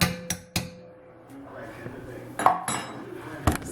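Metal utensils clink against a pot while something is stirred, a few sharp knocks early and more taps later, with quieter scraping between.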